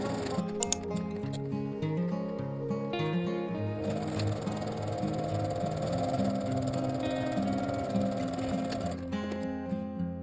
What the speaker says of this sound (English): Press and top stitch both the top and bottom, 1 cm from the edge.